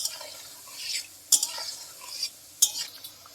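Kucho nimki frying gently in oil on a low gas flame, stirred with a utensil: two or three sharp metallic scrapes against the pan over a steady soft sizzle, close up and without speech.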